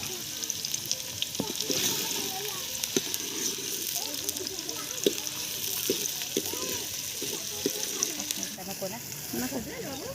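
Onion and tomato sizzle loudly in hot oil for tempering on an outdoor wood-fired stove, a steady close frying hiss with scattered stirring clatter while people talk throughout.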